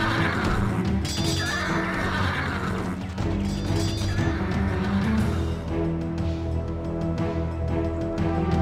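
Several horses neigh and whinny loudly, one after another, over steady hoofbeats and a dense rumbling background, as mounted warriors fight in the video game Empire Earth.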